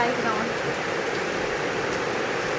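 Heavy rain falling steadily during a storm in Laos, a dense, even hiss of downpour with no letup, close and loud throughout.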